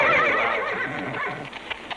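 A horse neighs loudly and up close, one long wavering whinny that fades out into a few soft hoof clops.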